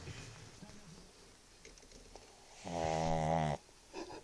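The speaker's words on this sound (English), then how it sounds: "This is the dog in the old lady's pocket, snoring." A small dog asleep in an old woman's pocket snores with soft, faint breaths against a quiet room hiss, then gives one longer, louder rumbling snore near the end.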